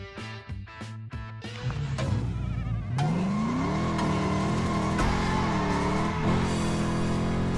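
A LEGO 2K Drive video game car revs and drifts, with a rising, whining engine tone and sustained tire-and-motor roar over a rhythmic music intro, loud and continuous.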